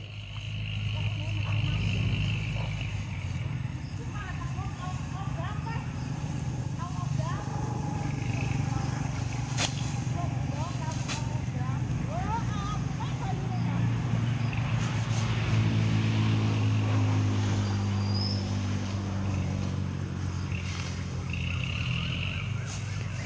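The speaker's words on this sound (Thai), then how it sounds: "รถไถไถนาแม่เขาไถกันตอนเย็น" A farm tractor ploughs rice paddies in the evening in rural Thailand, a steady low engine drone running continuously at moderate distance while people talk nearby.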